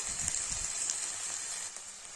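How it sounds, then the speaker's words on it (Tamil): Steady bubbling and sizzling from a tamarind mixture for coriander thokku boiling in a pan on the stove, a soft continuous hiss with faint crackles, no voices. "இதெல்லாம் கொதிக்க ஆரம்பிச்சிருச்சு"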